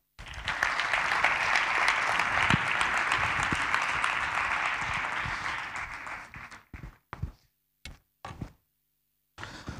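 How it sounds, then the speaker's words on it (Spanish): An audience gives a round of applause for panelists at a fintech panel discussion, full and sustained for several seconds before breaking into a few scattered, isolated claps. "Un gran aplauso para ellos."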